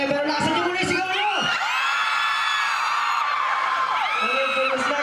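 A large crowd at a book fair concert in Manila cheers, whoops and shouts loudly and continuously, high excited voices including children's yells swelling into sustained screaming.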